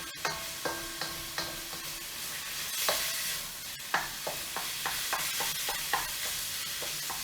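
Ground pork for mapo tofu stir-frying in a pan, a steady sizzle broken by repeated sharp scrapes and clacks of a utensil stirring the meat, close and fairly loud with no talking.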